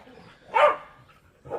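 Dogs barking near a farm machine shed, two short sharp barks a second apart, close and loud with quiet between them.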